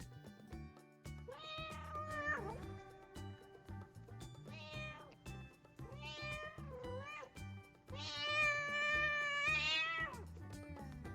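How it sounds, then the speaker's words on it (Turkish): A cat meows several times, drawn-out wavering calls with pauses between them, ending in a long, strained yowl. Fairly close, no voices. "Kediler böyle ses çıkartır."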